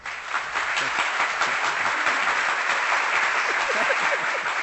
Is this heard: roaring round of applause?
yes